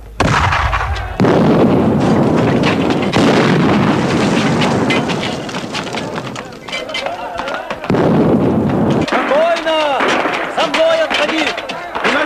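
Artillery cannon fire in a 1937 Soviet film battle, loud and continuous booms and bursts filling the scene, with shouting voices breaking through in the later part.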